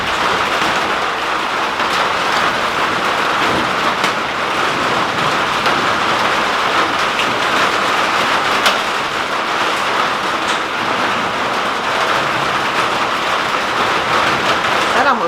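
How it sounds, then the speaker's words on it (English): Heavy rain or hail drums steadily on a greenhouse roof, a loud, dense, unbroken hiss with scattered harder impacts, close and continuous. "That almost sounded like hail."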